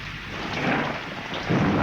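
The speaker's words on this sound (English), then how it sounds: "caught in one of those sudden summer storms" A sudden summer thunderstorm: steady heavy rain hisses throughout while thunder rumbles and swells louder toward the end.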